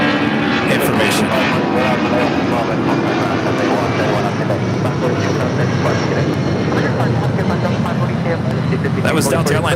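A Delta Airlines 757-200 takes off from the south side of LAX with a powerful, unbroken engine roar, close and loud throughout, while voices murmur under the din.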